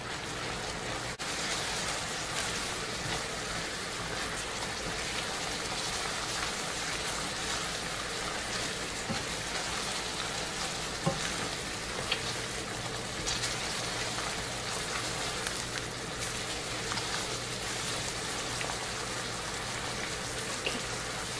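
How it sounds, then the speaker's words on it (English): Mushrooms in a cream sauce bubble and simmer steadily in a pan for a pork chop dish, giving a soft, continuous hiss and patter like light rain, with occasional faint stirring clicks. "Keep moving your mushrooms in and your cream around in the pan."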